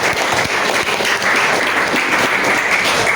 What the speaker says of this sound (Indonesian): Oke luar biasa. Tepuk tangan.